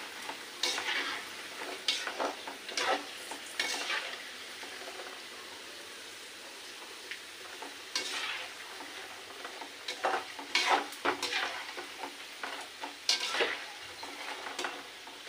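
Chopped okra fries in a pan while a spatula stirs it, a continuous soft sizzle broken by repeated scraping strokes against the metal, fairly quiet and close.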